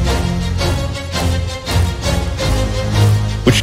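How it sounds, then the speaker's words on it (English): Loud orchestral strings from the Final Fantasy XVI soundtrack hammer out short, driving staccato notes over deep low hits, building a tense, pulsing rhythm. "there's the power given by the epic string staccatos that sound like this"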